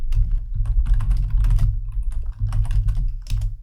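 JavaScript code being typed on a computer keyboard, a steady patter of close key clicks with uneven rhythm and brief pauses, no voice.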